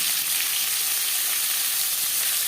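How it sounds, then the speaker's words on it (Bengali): Onion, tomato and garlic cloves frying in hot mustard oil with a bay leaf, a dense, even sizzle that stays loud and close for a couple of seconds with no voice over it. "পেঁয়াজ টমেটো ও রসুন হালকা করে ভেজে নেব"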